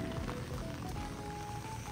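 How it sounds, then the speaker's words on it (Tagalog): Heavy rain falling steadily outdoors, a dense, continuous broadband hiss at an even, fairly loud level throughout, with no clear voices. "Sobrang ulan po. Maulan."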